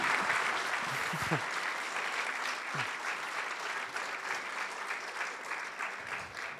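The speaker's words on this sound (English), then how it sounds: "A round of applause, please." A conference audience at a safeguarding commission event applauds in a dense, even wash of clapping that holds steady throughout and thins slightly at the end.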